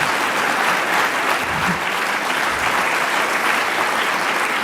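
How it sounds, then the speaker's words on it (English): An audience at a medical freedom talk gives a loud, dense round of applause, many hands clapping continuously and evenly from start to finish. "Give her another round of applause."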